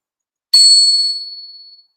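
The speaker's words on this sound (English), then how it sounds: "I just want to test if you can hear this bell." A single bright ding of a small bell, struck once and ringing out clearly before fading away over about a second.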